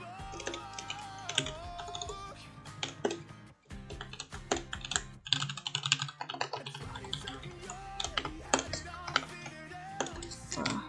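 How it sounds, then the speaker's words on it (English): Someone types on a computer keyboard in quick, uneven bursts of close, crisp key clicks, with short pauses between runs. "My typing ability has really got worse"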